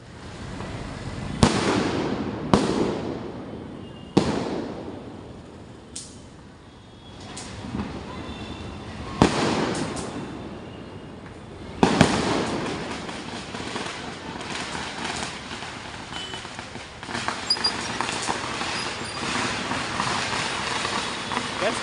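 Diwali firecrackers and fireworks burst in Hiranandani, several sharp loud bangs spaced a few seconds apart followed by echoing crackle and a continuous rumble of distant blasts.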